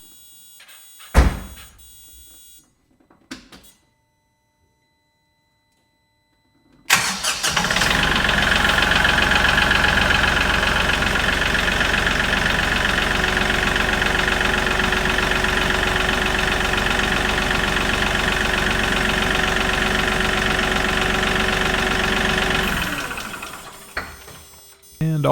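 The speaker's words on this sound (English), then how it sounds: "Now to test fire the tractor to make sure we don't have any air in the fuel lines." A Kioti NX5510 HST 4x4 tractor's diesel engine cranks and fires after a few short clunks and a pause, then settles into a loud, steady idle that runs for about fifteen seconds before shutting down.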